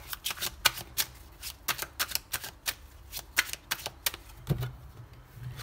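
Tarot cards being shuffled close by, a run of crisp papery riffles and flicks in uneven bursts, with a soft thump near the end.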